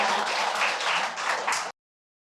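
A small book-talk audience claps for a guest author, a short burst of applause from a modest group lasting under two seconds before cutting off abruptly.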